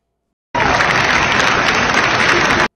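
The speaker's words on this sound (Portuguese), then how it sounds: "Esses foram os aplausos" A burst of loud applause from a crowd at the United Nations for Brazilian President Lula, starting abruptly and stopping just as suddenly after about two seconds.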